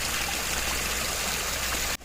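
Pond water cycled endlessly by a submersible pump trickles and splashes in a steady, close stream, broadband and unbroken until it cuts off abruptly near the end.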